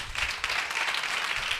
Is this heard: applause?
yes